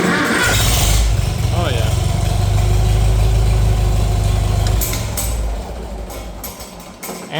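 An old, rare tractor engine that had sat parked for years, already hot, is cranked and fires into a loud, chugging idle before easing off near the end, with someone speaking briefly over it.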